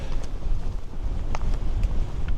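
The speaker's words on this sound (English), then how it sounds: "Very windy." Strong wind buffeting on the summit of Moylussa, a 748-foot hilltop, a continuous rough rumble of gusts against the microphone with no voices.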